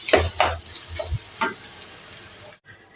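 Potato filling for stuffed papad dolma being stirred and pressed in a pan, with scraping strokes and a low sizzle over roughly two and a half seconds before a brief silence.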